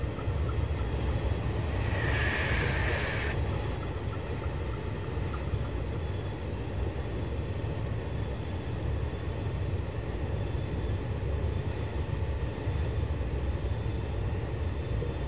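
A high-speed train in Train Simulator 2015, on the Chengdu to Suining line, passes at full speed as a steady, loud, broad rumble with rushing wind noise and a brief high whine early on, with no talk.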